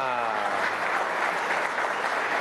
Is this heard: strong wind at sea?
no